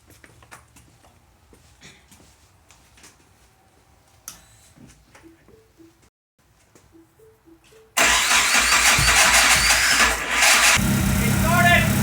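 A Mini Cooper with a swapped Mitsubishi 4G63 engine cranks and fires up, bursting into a loud, rough running roar after quieter clicks and murmured voices nearby.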